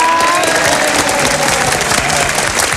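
Studio audience applause at a Thai TV quiz-show final, loud and steady throughout, dense clapping with some crowd noise mixed in.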